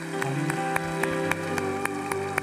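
A church youth-group congregation claps along in steady rhythm while worship music plays, with sharp, evenly spaced claps standing out over sustained instrumental tones.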